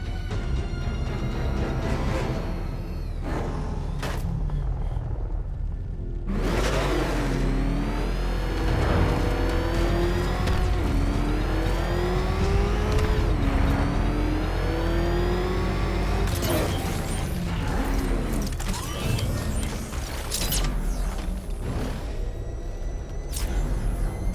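The Batmobile from Batman: Arkham Knight drives hard, a loud, close engine that revs and whines through shifting pitches, with surges of acceleration and scattered impacts over a continuous roar.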